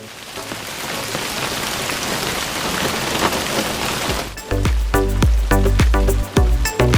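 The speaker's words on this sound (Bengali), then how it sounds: "হঠাৎ নেমে এলো এক পশলা বৃষ্টি" Steady rain from a sudden shower patters on a surface at a Sundarbans mangrove resort for several seconds, then heavy individual drops start striking loudly and irregularly nearby, as if hitting a roof or leaves.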